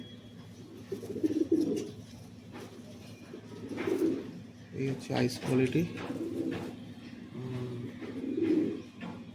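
Pet pigeons of fancy flying breeds coo repeatedly in low, throaty bursts, several overlapping calls close by, while someone talks over them.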